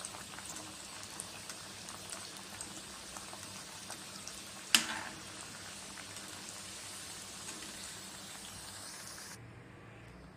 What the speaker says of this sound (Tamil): இதை நான் இப்போ பொறிச்சிட்றேன்.